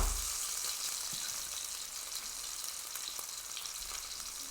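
A gluten-free stuffed meatball sizzles in a frying pan, a steady close hiss of hot fat with faint crackles and a soft bump or two as it is moved, no voices.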